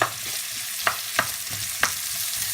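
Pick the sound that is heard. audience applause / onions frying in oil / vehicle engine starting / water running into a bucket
onions frying in oil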